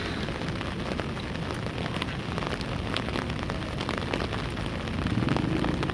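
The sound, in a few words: rain falling at Inani beach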